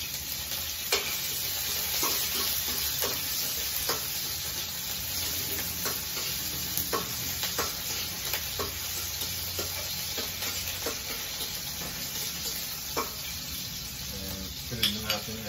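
Large-cut onions fry in a pan with a steady, close sizzle, broken by regular scraping stirs of a utensil against the metal, under occasional soft talking.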